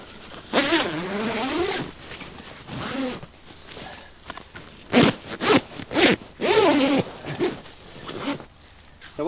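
A zip is pulled closed along a Drifta canvas swag in a series of rasping runs, some long and some in short bursts, close and clear with no talking.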